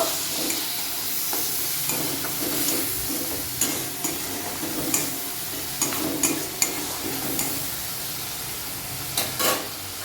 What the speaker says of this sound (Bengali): ওটা আমি এই তেলের মধ্যে দিয়ে দেব পেঁয়াজগুলো আমি বাদামি কালার করে ভেজে নেবো